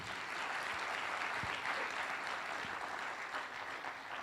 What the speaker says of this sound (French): 788 pépites qui méritent de s'applaudir très très fort